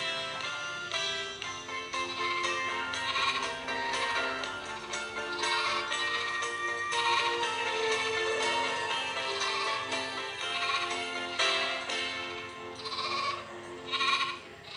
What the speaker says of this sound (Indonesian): Datanglah gembala, angkat domba kecil.